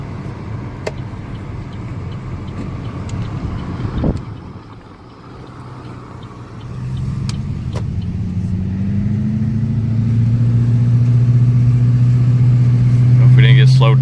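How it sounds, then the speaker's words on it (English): Engine of a 1974 GMC truck with a 4.8, first idling with a low rumble, then rising in a steady rev that climbs and holds loud toward the end, with wind noise and some talk over it. "Listen to this truck."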